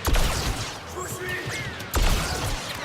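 Rifle fire in the Star Wars Battlefront 2 campaign, with sharp broadband cracks at the start and again near the two-second mark over a busy battle ambience of other game sounds.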